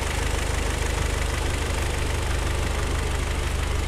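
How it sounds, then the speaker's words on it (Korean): A Hyundai YF Sonata Y20 sedan engine idles steadily with the hood open, heard close up in the engine bay as an even, rhythmic low-pitched rumble with a faint ticking pulse, continuous and with no voices. "엔진 소리 일정하네요"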